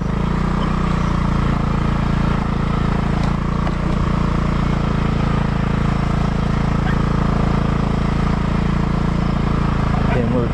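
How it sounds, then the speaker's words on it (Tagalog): A grass cutter runs steadily for the whole stretch, cutting an overgrown path through a farm field, its loud continuous engine drone close by with no pause. "grass cut pa natin tong daanan kasi madamo."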